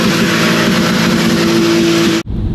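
A turbocharged Lexus GS300 drifting with a locking differential holds a loud, steady high rev for about two seconds before the engine note suddenly drops off.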